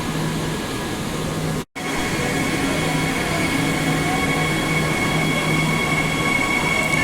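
A six-car Joondalup Line train in Perth rumbles past close by, a continuous roar of rail noise with faint wheel squeals and tonal whines, after a brief dropout near the start.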